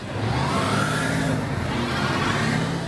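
Heavy highway traffic on State Road 400 north of Atlanta streams past in a steady roar, with engines droning and passing vehicles swelling and fading nearby.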